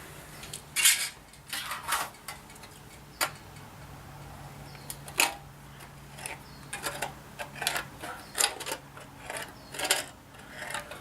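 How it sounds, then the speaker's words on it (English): RS cutters working into material, giving a run of sharp, irregular clicks and metallic snaps at close range, some louder than others, with no talk. "The nice thing about RS cutters is the deeper you get into the material, kind of the easier it gets to cut."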